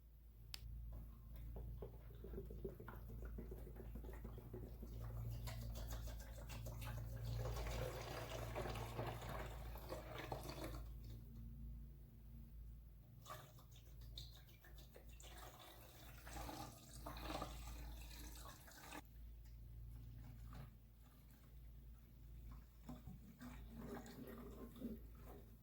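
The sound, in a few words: pouring Evapo-Rust into an ATC fuel tank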